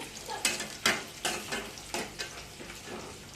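Peanuts frying in a pan make a soft, steady sizzle. Regular stirring scrapes and rattles recur roughly every half second, nearby and fairly quiet, with no voices.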